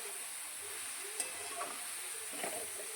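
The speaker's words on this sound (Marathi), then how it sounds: "याला मी अजून एकदा असं मिक्स करून घेते." A spoon stirs mixed vegetable bhaji in a pan while it gently sizzles, soft scraping strokes rising a few times over a steady, faint frying hiss.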